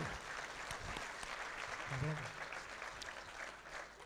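An audience applauds during a talk by a speaker in Rubí, with steady, fairly faint clapping throughout and a voice briefly heard over it.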